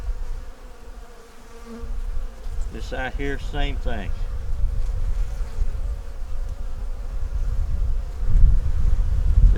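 Honeybees buzz in a steady, dense drone around a hive frame being checked after a storm, close and continuous, with a voice speaking briefly over it partway through.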